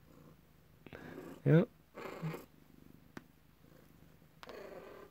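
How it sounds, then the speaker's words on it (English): A house cat sits beside a computer purring in a soft, low rumbling pulse, heard close, while someone talks briefly over it. "It's hard to make videos when you're next to me purring."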